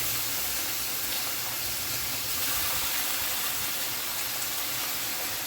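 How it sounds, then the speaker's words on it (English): Food steams in a heated pan on a stove with a little fat, giving a steady, broad hiss with faint sizzling that holds evenly throughout, up close and with no talking. "I'm not frying it, I'm just steaming it down."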